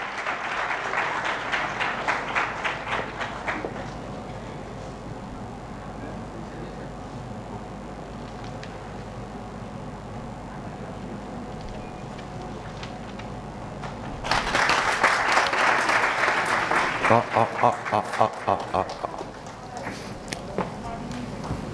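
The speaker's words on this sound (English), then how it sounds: "we can hear a big round of applause for him" Applause from an audience welcoming a speaker onto a stage, in two loud bursts of dense clapping, one at the start and a stronger one later, with a quieter stretch of crowd murmur and talk between them.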